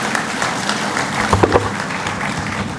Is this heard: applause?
yes